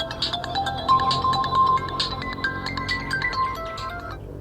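A phone rings early in the morning with a melodic ringtone that repeats in short tonal phrases, loud and close, for several seconds with no talking.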